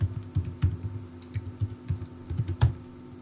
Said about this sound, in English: typing in your root password